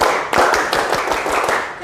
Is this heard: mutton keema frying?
no